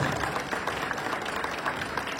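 Audience applause follows a dance demonstration at the opening of a ball, a dense and steady clapping from a crowd that stays loud and continuous for the whole short stretch.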